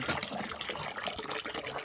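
Water being drawn from a well in Negros, a steady close gushing and splashing of liquid that runs without a break.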